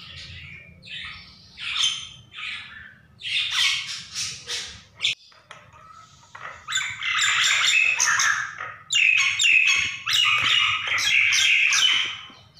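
Nias hill myna calling alone at close range, a series of loud, harsh squawks and whistled shrieks in bursts, with brief pauses between phrases and denser calling toward the end.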